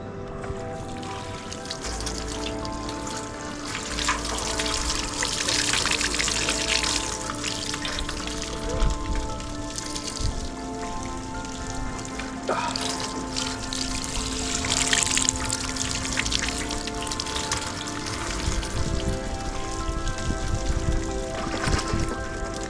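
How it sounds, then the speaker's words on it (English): Water poured onto a wall to simulate rain splashes steadily against the hard surface, a continuous rushing hiss like heavy rain running off, with no talking. "I have my rain simulation device."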